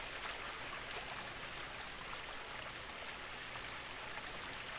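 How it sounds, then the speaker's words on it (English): A waterfall in the video game What Remains of Edith Finch, a continuous soft rushing wash of falling water, steady and fairly faint with no voice over it. "is the waterfall too loud?"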